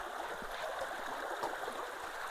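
Rainwater rushes through a culvert outflow, a soft, steady gurgling flow heard at modest distance, continuous and unbroken with no talking.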